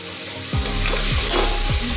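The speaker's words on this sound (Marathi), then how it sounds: "कांदा व्यवस्थित तळसून घ्यायचा आहे आपल्याला गोल्डन कलर करायचा आहे" Onion fries in hot oil in a pan until golden for a Maharashtrian stuffed brinjal dish, a loud, continuous close sizzle with a few scraping stirs on top.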